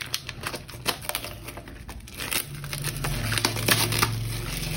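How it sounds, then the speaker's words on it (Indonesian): Protective plastic wrap torn and peeled off budget Acome QuietPods Q1 Bluetooth earbuds packaging, a close run of crinkling and crackling with sharp snaps over a low steady hum. "Ini kita buka dulu untuk plastik pelindungnya."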